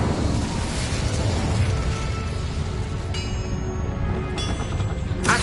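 Fiery spell blast cast in a fantasy video game, a dense, continuous roaring burst with sharp bright flares near the end, loud and close with no talking.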